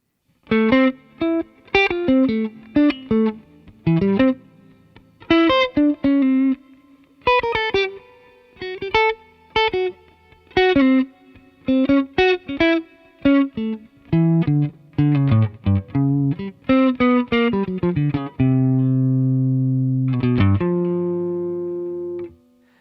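An electric guitar solo, distorted and effects-laden, played with deliberately awkward, uneven phrasing: short bursts of picked notes separated by irregular pauses, ending on a long sustained held note.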